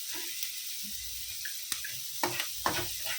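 Quiet sizzling of carrots frying in a pan, with a few soft clinks and scrapes of stirring.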